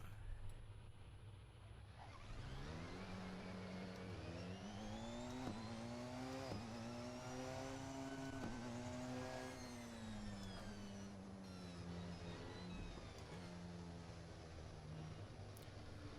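Race car in a sim racing video game pulling out of the pits, its engine note climbing and falling through gear changes in a steady, loud drone with no talk over it.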